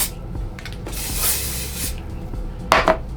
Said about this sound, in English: So we'll hit it with the hairspray.